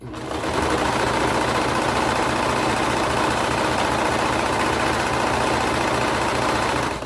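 A sewing machine runs continuously for several seconds, stitching the cuff seam of a knit cardigan, with a loud, steady rapid whir and no pauses.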